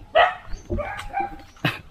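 Dogs bark close by in a quick, loud burst of three or four sharp barks with short gaps between them.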